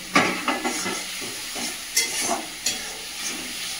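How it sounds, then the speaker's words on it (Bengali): Onion frying with ginger-garlic paste and green chilies in a pan, a bright steady sizzle broken by several close scraping stir strokes at irregular intervals. "এটা ভালো করে ভেজে নেব"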